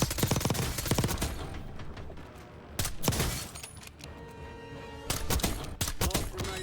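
KSV submachine gun fire in Call of Duty Warzone rattles out in rapid, sharp bursts, loud and close, with short pauses between volleys and other battle noise around them.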